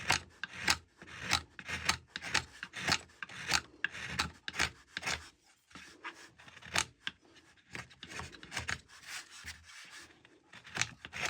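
A knife pares dense end-grain wood while chamfering the inner edges of a seven-string lyre: repeated rasping, scraping strokes in an uneven rhythm, close and fairly quiet, with short pauses between cuts.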